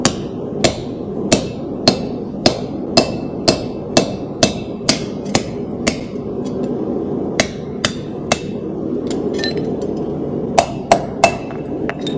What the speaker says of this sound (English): So if you use a soft hammer, use a little bit of your force as you're swinging